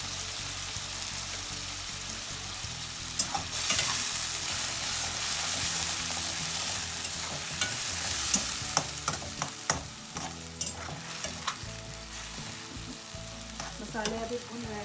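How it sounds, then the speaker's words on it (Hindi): Spices fry in hot oil with a steady, close sizzle and crackle for pumpkin leaf curry, punctuated by small pops and the occasional stir. "मसाले अभी भून रहे हैं"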